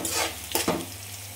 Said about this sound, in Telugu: ఇలా లోపల పెట్టుకొని ఉల్లిపాయలు కొంచెం వేగించుకోండి